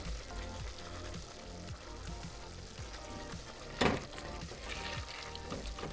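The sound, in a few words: sauce cooking in a pan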